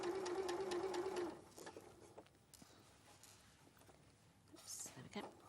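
Sewing machine stitching bias binding round a curved edge, a steady motor whir for about a second, then stopping as a person talks quietly over faint handling noises.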